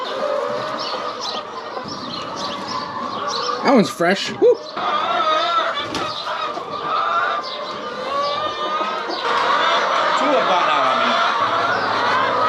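Hens cluck and squawk in short bursts around a nearby speaker who talks over them, with steady background rustle.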